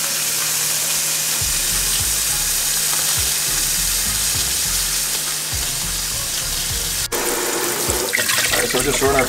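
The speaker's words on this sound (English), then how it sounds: "So just run our potatoes under some cool water." Cool tap water runs steadily over halved potatoes in a sink, a continuous loud hiss and splatter, with a brief clatter near the end.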